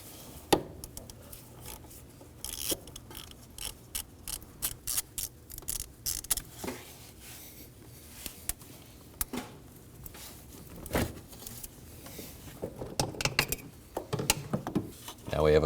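An 8mm ratchet working around the steering column to loosen the turbocharger hose clamp on a 2009-2014 Ford F-150 3.5L V6, with scattered close clicks and metallic knocks and rustling, fairly quiet.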